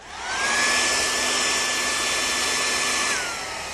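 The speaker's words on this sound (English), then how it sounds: "So I'm using this blow dryer right here." A blow dryer runs on its hottest setting, heating an old car pinstripe to soften it, with a steady whooshing whine that rises at switch-on, holds loud and close for about three seconds, then winds down.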